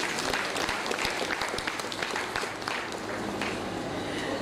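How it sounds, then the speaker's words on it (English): Applause from a women's association audience fills the room, dense steady clapping sustained throughout at moderate loudness. "Let's have a better round of applause."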